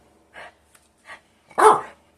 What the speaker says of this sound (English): No, stop barking.